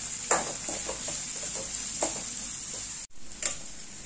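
Ginger, garlic and green chilli frying in oil, a steady close sizzle broken by a few scraping stirs and light clicks of a spoon against the pan.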